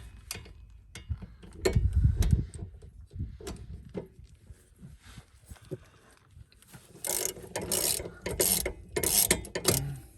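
Ratchet wrench loosening the bolts on a front wheel hub, with bursts of quick clicking ratchet ticks, louder near the start and again in heavier clusters toward the end, with metallic handling sounds in between.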